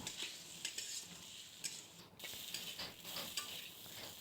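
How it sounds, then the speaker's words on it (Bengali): Cumin paste, chili paste, turmeric and salt are sautéed in a pan for a Bengali katla fish-head muri ghonto, with quiet, irregular spatula scrapes and stirring strokes over a soft, low sizzle. "লঙ্কা বাটা পরিমাণ মতন হলুদ গুঁড়ো পরিমাণ মতন নুন দিয়ে ভালো করে কষিয়ে নেব"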